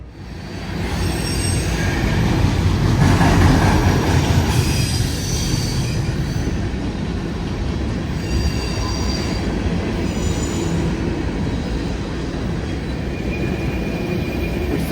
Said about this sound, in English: Currently have a train going by.